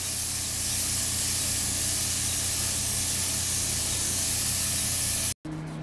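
A spray gun lays a coat of paint onto a motorcycle fairing, giving a loud, steady hiss that runs without a break and cuts off abruptly near the end, leaving a low hum.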